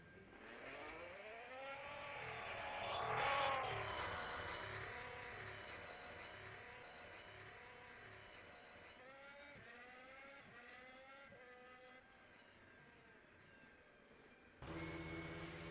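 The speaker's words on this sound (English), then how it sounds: "we've got some cars on track now" Formula 1 cars lapping during Portuguese Grand Prix qualifying in 2023, engines rising and falling in pitch as they pass, one loud surge early and then quieter sweeps at a distance, with a sudden jump in level at the end.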